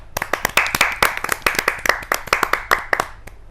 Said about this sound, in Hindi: इसके लिए एक बार जोरदार तालियां